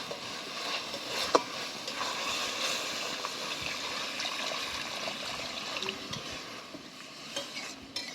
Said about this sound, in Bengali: এবার গ্রেভি করার জন্য আমি আরও একটু জল দিয়ে দেবো